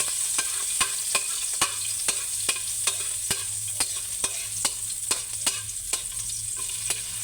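Garlic fries in a pan with a steady, close sizzle, while a utensil scrapes and stirs in regular knocks roughly every half second throughout, as the first step of cooking kangkong with tokwa.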